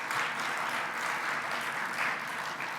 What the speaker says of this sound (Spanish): hoy le vamos a dar otro fuerte aplauso